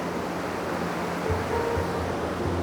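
A river flows at the Keran village border, a steady, loud rushing wash of water with no voices over it.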